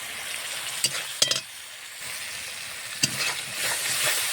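Ground spice paste with turmeric and salt frying in a pan before shrimp go in, a steady close sizzle with a few clattering spatula stirs scattered through.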